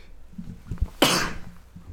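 A single human sneeze bursts out sharply and loudly after a brief intake of breath, with faint background voices and room noise around it.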